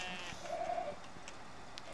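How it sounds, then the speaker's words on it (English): In the farming game Farm Expert 2017, a goat lets out one faint wavering bleat that rises briefly over quiet ambient game noise, with a few soft clicks around it. "Hi, evil goats."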